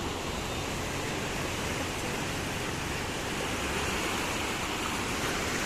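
Swollen Lamthol river near Pattambi, running high after rain, sends up a steady, loud broadband rush of flowing water, constant and unbroken throughout with no voices.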